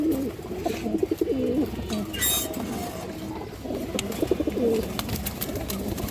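Loft pigeons, including an all-rounder hen, coo in rolling, repeated low phrases, loud and close, with a brief rustling scuffle partway through.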